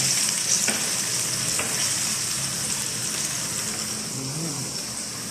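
Pork chops fry in a hot pan with a steady, close sizzle and crackle that stays even throughout, broken by a couple of faint clicks.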